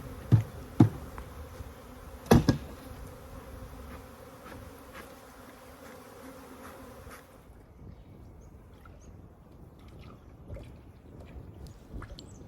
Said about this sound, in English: I shake off the bees from the nuke box itself into the Layens hive and close the lid.